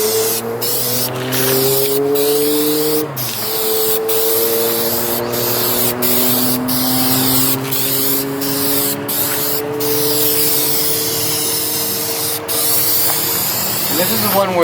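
Aerosol Dupli-Color paint hissing steadily onto a car bumper in a workshop, long continuous spray bursts with brief pauses, while someone talks over it.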